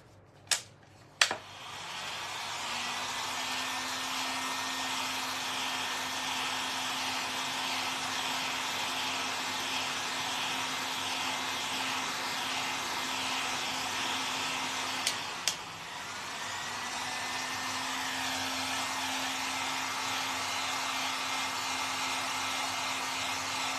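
A hair dryer blows over freshly applied fabric and leather paint, a steady close whooshing hum that runs almost continuously after a couple of sharp clicks, cutting off and restarting briefly partway through.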